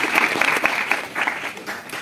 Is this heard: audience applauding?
yes